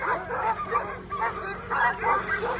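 Sled dogs at the Copper Basin 300 race bark and yip in repeated bursts, fairly close and loud, with some whimpering yelps mixed in and faint voices underneath.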